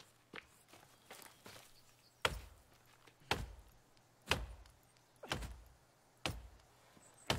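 Wood being chopped for sticks in The Forest, a survival video game: seven sharp, evenly spaced chops ring out close and loud against a quiet outdoor background.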